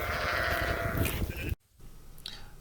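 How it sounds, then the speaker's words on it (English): A flock of sheep bleats loudly in a field as they head toward fresh pasture, overlapping calls up close that cut off abruptly, then a fainter bleat follows. "This next group of sheep starting to come towards us now are excited to get off to a new field."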